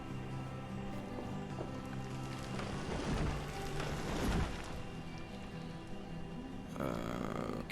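Rain falls in the medieval city-building game Banished as a steady, moderately quiet hiss. Faint tapping and clopping sounds from the game run beneath it.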